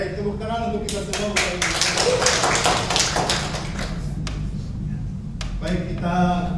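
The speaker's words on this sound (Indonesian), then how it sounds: "tepuk tangan untuk kita semua" Group hand clapping from an audience at an Indonesian teachers' gathering, a dense burst of claps that thins to scattered claps, with a voice talking over the start and end.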